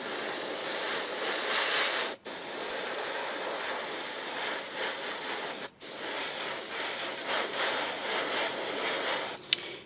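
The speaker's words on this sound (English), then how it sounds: "It sounds like I've got something stuck down the nozzle end." An airbrush with something stuck in its nozzle sprays paint on a 1/12 scale Bandai Boba Fett model, a loud steady hiss broken by a few sudden sputtering dropouts, with no speech.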